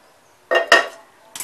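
Roasted wheat is tipped from a pan into a dish, giving two quick close scraping clinks followed by a brief third rattle, all in a quiet kitchen.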